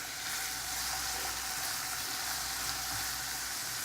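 Onion rings sautéing in a pan produce a dense, even, close-up sizzle that holds steady throughout, with no speech.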